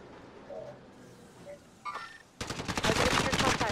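Rapid gunfire in the game Call of Duty: Warzone erupts near the end, a loud rattling burst following faint ambient sounds and a few small noises.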